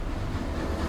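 A train runs along a railway track in the horror game Shed 17, giving a brief, steady low rumble with a rolling, rattling texture and no voices.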